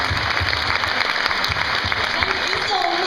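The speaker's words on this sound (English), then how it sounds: "Everybody, round of applause." Convention panel audience at JIBCON 2012 applauding in a steady, dense round of clapping that fills the hall, with a voice speaking briefly over it near the end.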